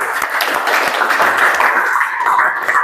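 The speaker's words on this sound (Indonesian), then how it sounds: "Tepuk tangan dulu" A classroom of students claps together in a steady, brisk patter of many hands, fairly loud and close, continuing unbroken for a few seconds.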